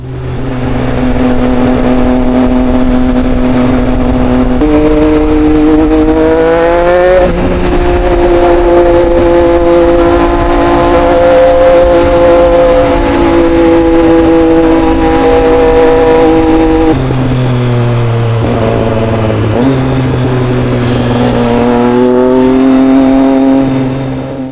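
A Triumph Street Triple motorcycle ridden on a New York highway, its engine droning loud and steady throughout with harmonic pitch rising and dropping through gear changes, plus constant wind rush and no talking.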